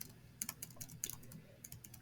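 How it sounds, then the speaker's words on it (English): Quick, uneven bursts of keystrokes clatter on a computer keyboard, fairly close, with no voices and only a faint low hum underneath. "especially when I'm typing like this"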